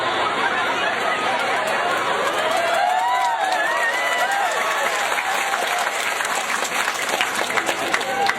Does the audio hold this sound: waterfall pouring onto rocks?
no